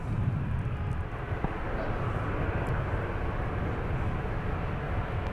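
An Aer Lingus heavy jet bound for Dublin takes off at Minneapolis–Saint Paul airport, a steady deep engine roar rumbling low and continuous at moderate distance, with wind noise on the microphone.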